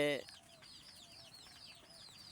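Native desi chickens cluck in a quick series of short, repeated calls close by, after a brief voice at the very start.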